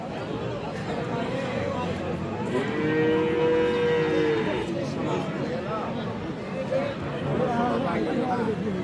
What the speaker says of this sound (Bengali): ও গরু আছে পিছনে